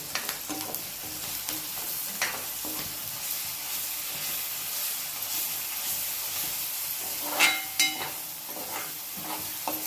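Ginger garlic paste sizzling with onions in a hot pan, a continuous close frying hiss with scattered spattering crackles and stirring scrapes, a sharper burst of sizzle near the end, no talking.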